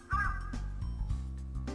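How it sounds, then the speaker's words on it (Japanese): Crows caw in the To Heart video game, a few harsh calls over a steady low background tone, with no one speaking. "飛んでいた数羽のカラスが寄ってきたかと思うと、"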